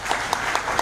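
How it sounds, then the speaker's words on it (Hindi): An audience applauds briefly at a motivational talk, a short burst of even clapping heard over a faint room hum. "तो ये तालियां आपके लिए होनी चाहिए।"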